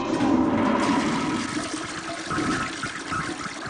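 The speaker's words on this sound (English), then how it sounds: "When you flush your toilet" A household toilet flushes close up: a loud rushing gush of water that swirls and slowly drains away over a few seconds.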